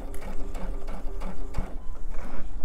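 A sewing machine stitches a heavy, plush stuffed elephant toy, running in short, steady mechanical bursts with a rapid needle rhythm, close and clear throughout.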